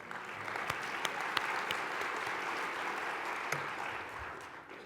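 Steady applause from an audience at a talk in a bookstore, a dense even patter of clapping that holds throughout with a few sharper claps standing out.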